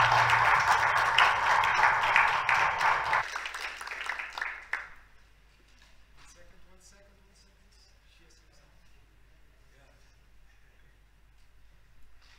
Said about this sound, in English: please give a warm round of applause for Dr. Andrews